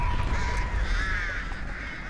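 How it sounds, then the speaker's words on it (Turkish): Crows caw in the Dead by Daylight video game, a few harsh calls at moderate level against a low ambient rumble, with no voices. "karnından karga çıkıyordu"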